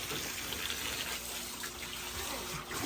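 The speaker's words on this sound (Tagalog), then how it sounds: "yung tubig, nagsisirculate lang para i-filter niya" Continuous soft rush of water circulating through an Intex swimming pool's filter pump, a steady hiss with a faint low hum beneath it, no voices.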